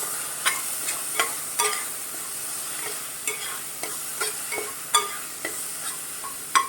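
Whole spices, peppercorns and bay leaf sauté in a pan at medium heat with a soft, steady sizzle, broken by intermittent close scrapes and clicks of a spoon stirring them, without any voices.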